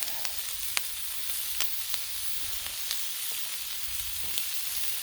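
Homemade ghee sizzles steadily on a Blackstone flat-top griddle, a close, continuous hiss and crackle with scattered sharp pops, no voices.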